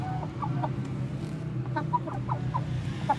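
An Aseel hen clucks in short, repeated bursts over a low background hum, some clucks rising slightly in pitch.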